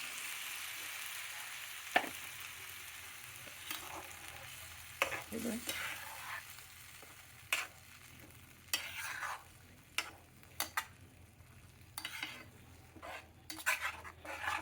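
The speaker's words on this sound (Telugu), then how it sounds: "మీడియం ఫ్లేమ్ మీద పెట్టి కలిపెడుతుండాలండి." A spoon stirs soaked oats and softened tomatoes in a pan over a medium flame, giving intermittent scraping knocks and soft sizzling, quiet and close with no talk.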